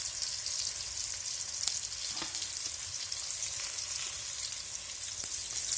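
Boiled lentils (dal) being stirred in a pot, heard as a steady close sizzling hiss with a few faint scrapes and taps of the stirring spoon throughout.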